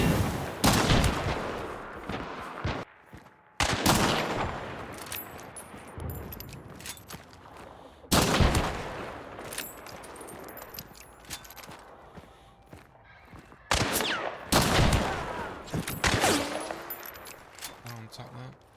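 Gunfire in the multiplayer shooter Hunt: Showdown, with several loud, sharp shot bursts separated by quieter stretches, some close and punchy, with lighter movement and clatter between volleys.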